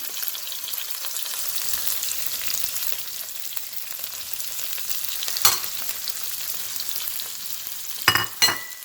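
Quinoa stir-frying with carrots and spring onion in a hot pan, a continuous close sizzle with scraping stirs and a few sharper clacks of the utensil against the pan near the end, no voices.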